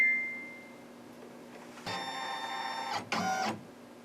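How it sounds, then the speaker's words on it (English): An embroidery machine scans in fabric, giving a faint electronic tone and hum that shift into a louder whirring scan lasting about a second, then a second shorter burst, all close by with no talk. "So let's scan in our fabric, and this will tell me the exact placement that I need."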